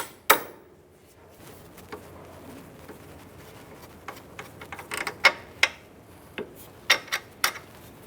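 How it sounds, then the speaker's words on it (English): Bolt being tapped out of the front suspension of a 2002-2007 Jeep Liberty, with a sharp metallic strike near the start and then a run of light, irregular taps and clicks, some louder, over a quiet workshop background. "Go ahead and tap that bolt out."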